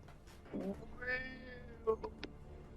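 A human voice imitates a banshee-like wailing scream, like a cat in heat. One drawn-out, rising and falling wail is followed by a few short vocal yelps, at moderate volume.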